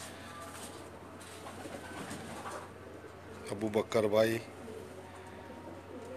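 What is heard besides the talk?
pigeons cooing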